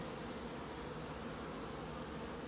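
Honey bees buzzing at a bee farm in Jamaica, a continuous dense drone of many insects close by, steady and unbroken with no voices.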